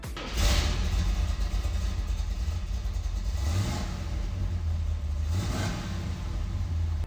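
A 1969 Chevy Camaro Z28 with its 302 cubic-inch V8 rumbles deep and loud, rising in revs twice over a steady low growl.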